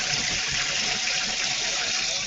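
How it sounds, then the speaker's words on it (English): Cold water running from a kitchen tap into a sink, a steady, loud, close gush that continues unchanged throughout with no voices. "you put cold water into the sink"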